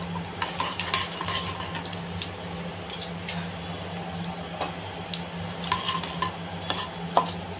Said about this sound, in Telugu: ఆయిల్ హీట్ అయింది. దీంతో కొద్దిగా ఆవాలు వేసుకోవాలి ఫ్రెండ్స్.